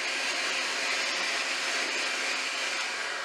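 An electric mixer whirs steadily through cake batter with vanilla for a funfetti cake, a loud continuous drone without pauses or voices.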